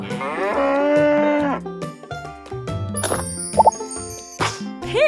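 A toy animal game plays a loud synthesized cow moo lasting over a second, then clicks, plops and bright chiming jingles from the toy follow in quick succession.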